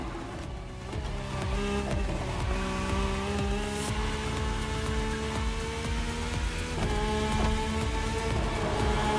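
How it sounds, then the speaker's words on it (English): A rally car in The Crew Motorfest racing game drives toward a dirt route during a head-to-head Red Bull Speed Clash event, its engine holding a steady, droning tone with rising pitch sweeps amid continuous game sound. "The rally car has already changed its course to reach the dirt."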